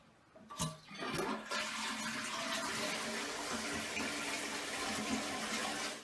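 A toilet flushing up close: a sharp handle clunk, then a loud, steady rush of water that carries on for several seconds, with no one speaking.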